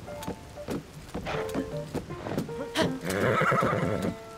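Horse in Zelda: Tears of the Kingdom whinnying and neighing repeatedly at close range, with faint clip-clop of hooves and a light game soundscape beneath.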